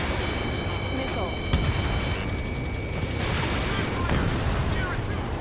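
Artillery fire in the combat flight game Ace Combat 7: heavy booms and bursts pound through a dense rumbling battle din, with sharp cracks standing out, alongside alarm-like tones and radio chatter.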